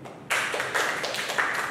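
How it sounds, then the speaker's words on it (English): Audience applause breaks out abruptly and carries on steadily for a couple of seconds, a dense wash of many hands clapping together at a presentation introducing a speaker, fairly close and without talk over it. "Please give big applause for Kade Yunita Adriyanti."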